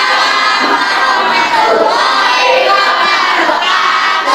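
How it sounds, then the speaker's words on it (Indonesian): Schoolchildren in a classroom cheering and shouting together, with clapping mixed in, a loud, sustained crowd of young voices close by. "Tepuk tangan."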